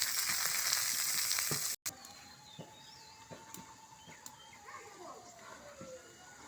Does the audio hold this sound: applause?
no